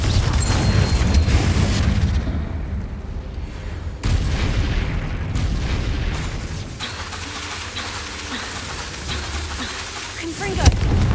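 Confringo, the explosive fire spell in Hogwarts Legacy, blasts repeatedly in a dense, loud battle. Booming impacts land at the start, midway and near the end over a continuous rumbling din.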